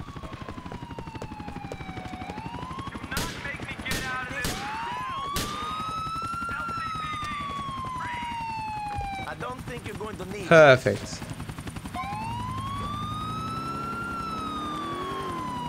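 A police car siren in Grand Theft Auto IV wails steadily throughout, with engine noise, brief sharp bursts and a loud thump near the end, and someone speaking briefly.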